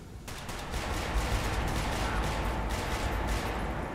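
Rapid semi-automatic rifle fire in the video game Fallout 4, a dense run of quick shots at moderate loudness with no talking.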